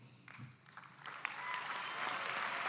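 An audience in a high school commencement hall applauds the faculty, starting with scattered claps and swelling into steady, fairly distant applause, with faint voices mixed in.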